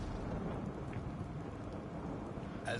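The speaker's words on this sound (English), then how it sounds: "It's raining." Rain pours down outdoors in the video game Heroes of Mount Dragon, a constant, full rushing hiss with low rumbling underneath, steady and fairly loud throughout with no talking.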